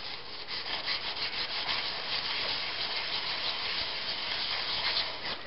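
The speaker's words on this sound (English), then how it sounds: "Alright, flattening the back as per usual. Oh, 150 grit wet dry sandpaper to start." A chisel's back is rubbed on 150 grit wet-dry sandpaper, giving a steady, close, rasping scrub in quick repeated strokes without pause, with no talking.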